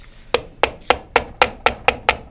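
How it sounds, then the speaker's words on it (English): Eight sharp metallic hammer blows seat a part into a power steering pump during a rebuild, landing in a steady, even rhythm, close and loud, with brief quiet between each strike. "And now you're gonna hammer it a little bit,"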